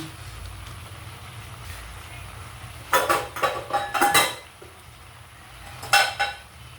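A lid placed onto a pot of simmering chicken adobo, with a cluster of metallic clanks and rattles around the middle of the clip and another clink near the end, over faint background hum.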